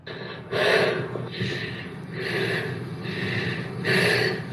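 A voice imitates Darth Vader's mechanical breathing: several loud, raspy inhale-exhale cycles repeated at a steady, slow rhythm, close up with no talk.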